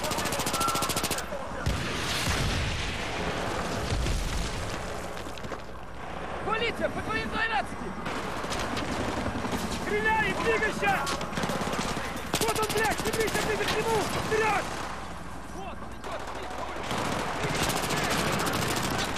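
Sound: gunfire from the video game Battlefield 3

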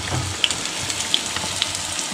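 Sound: fritters (bora) frying in oil

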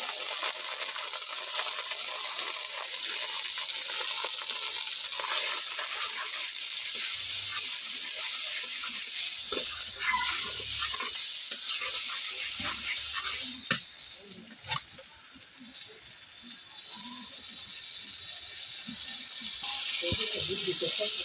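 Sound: chicken with spices being stirred and sautéed in pan

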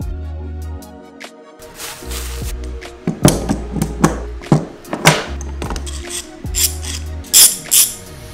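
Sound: clamps being tightened on fishing lure molds

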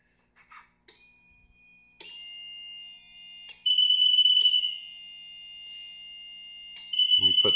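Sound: liquid level sensor alarm sounding

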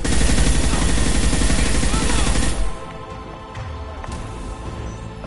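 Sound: assault rifle gunfire in the video game Mass Effect 2

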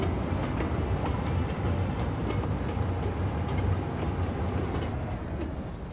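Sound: train passing through a railway station in a city-building video game

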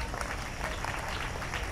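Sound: applause for a child

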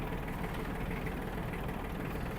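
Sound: Iseki TG-29 Japanese mini tractor engine driving

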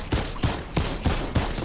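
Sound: gunfire in video game Fortnite

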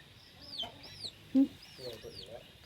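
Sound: chickens clucking

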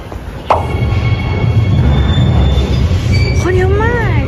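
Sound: metro train at station

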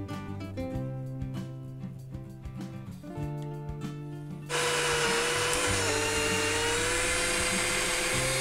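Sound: drilling a hole in a hose

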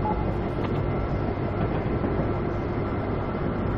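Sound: train running in Railworks video game

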